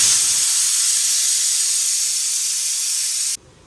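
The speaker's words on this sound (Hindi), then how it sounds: "ये लड़की जो है ना, प्रेशर कुकर की आवाज़ से डर रही है।" A loud, steady rush of steam hissing from a pressure cooker whistle for about three seconds, then cutting off abruptly.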